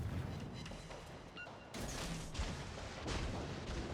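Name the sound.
naval gunfire from a ship in a video game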